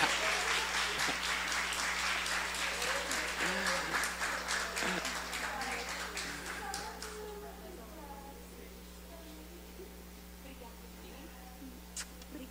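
A congregation claps in an evangelical church during an honoring, a dense spread of hand claps that is loud at first and then fades away after several seconds, leaving a low electrical hum.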